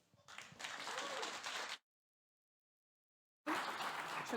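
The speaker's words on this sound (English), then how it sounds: "So please give him a warm applause." An audience at a technical talk applauds, a burst of dense clapping that cuts off abruptly into silence, then resumes just as abruptly.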